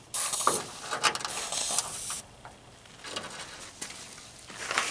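Rust treatment sprayed from a can inside the hood of a 1977 Camaro Z28 gives several close hissing bursts of spray separated by short pauses.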